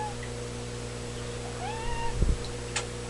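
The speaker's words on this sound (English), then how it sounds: "Can you stop whining at me," A pet cat whining and meowing indoors beside a betta fish tank, one soft rising meow followed by a louder drawn-out cry, close and alone over a steady background hum.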